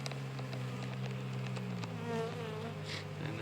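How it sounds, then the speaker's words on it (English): Honey bees buzz steadily on a hive frame as a newly released queen walks out among them, a dense continuous insect drone close by with no talking. "So we'll watch the other bees, make sure they don't try to attack her."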